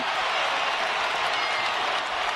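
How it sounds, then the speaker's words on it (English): Dense, steady roar of a basketball arena crowd cheering and applauding at a tense late-game moment in an NCAA men's game, Alabama at Tennessee, loud and continuous with no clear speech. "Listen to this crowd."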